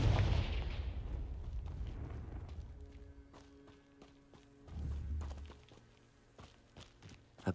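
Confringo fire spell cast in the game Hogwarts Legacy: a loud blast at the start that rumbles and fades over a couple of seconds, followed by a softer second thump and scattered clatter.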